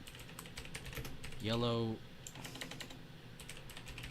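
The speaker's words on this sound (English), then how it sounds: "Oh my god, y'all will never hear me type again." Rapid clicky typing on a Borderlands-themed computer keyboard continues steadily throughout, with a brief spoken word cutting in partway.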